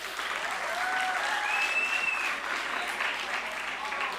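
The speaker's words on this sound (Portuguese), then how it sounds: "Ainda bem que bateram palmas" Audience applause fills a school debate-contest session hall, a steady dense clapping from the crowd that holds loud and even throughout without pause.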